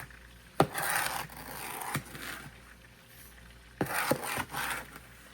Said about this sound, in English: take my spoon and stir it around a little bit more